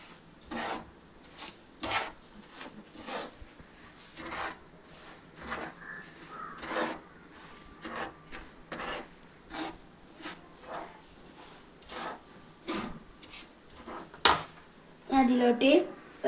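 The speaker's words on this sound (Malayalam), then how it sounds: "ഇത് നമുക്ക് ചെറിയ തീയിലിട്ട് വറുത്തെടുക്കാം." A spatula scrapes and stirs semolina, coconut and sugar in a pan over a low flame, with repeated rhythmic rasping strokes at close range, fairly quiet, plus a couple of sharper knocks near the end.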